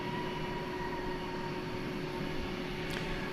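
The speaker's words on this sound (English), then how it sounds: "There's the touchdown from Denver." An airliner arriving from Denver touches down on the runway at DFW Airport at night, heard as a steady, even roar of jet and rolling noise with no talk.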